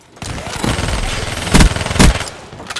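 Bursts of rapid automatic fire from the Kuda submachine gun in Call of Duty Black Ops 3, loud and close, with several sharp rattling volleys and brief pauses between them.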